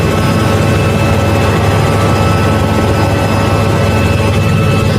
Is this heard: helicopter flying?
yes